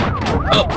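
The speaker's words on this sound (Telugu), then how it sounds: "ఏంటి ఆ సౌండ్? సైరన్ సౌండ్ అండి." A loud wailing siren rises and falls continuously across the short stretch, close by and dominating, with a low rumble underneath.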